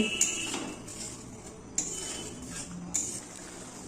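A spatula stirs fried paneer and slit green chillies in a metal pan, producing three distinct, evenly spaced metallic clinks over a quiet background of soft scraping.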